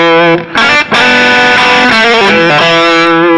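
Distorted electric guitar with a humbucker pickup plays a thick, sustained chord phrase with rich overtones, loud and close, with a couple of brief breaks between strums.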